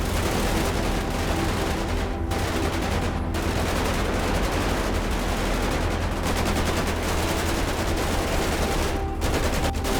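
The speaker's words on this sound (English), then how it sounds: "I'm moving up. Lay down suppressing fire. Keep them busy." Sustained suppressing gunfire in a GTA V action scene, dense continuous automatic bursts with booming reports, loud and unbroken throughout.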